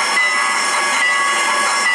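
A train whistle sounds continuously for about two seconds, a steady bright tone with a hissing edge, loud and alone with no voices.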